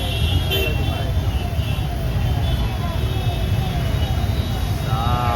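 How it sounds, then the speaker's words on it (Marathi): Heavy road traffic at sunset, a continuous loud roar of engines and tyres close by with occasional horn toots and a voice talking over it. "हे बघा काय किती ट्रॅफिक आहे इथे"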